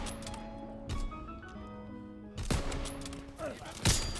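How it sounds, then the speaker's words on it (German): An artillery strike in Call of Duty WW2 lands as several sharp, scattered blasts spaced over a few seconds, with a voice talking underneath. "Okay, wir haben Artillerie rausgehauen."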